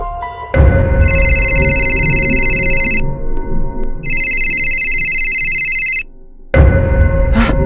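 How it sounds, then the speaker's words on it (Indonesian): A mobile phone ringtone sounds loudly in two long electronic bursts separated by a short pause, over a steady background hum. "handphone miliknya yang dari tadi telah berbunyi."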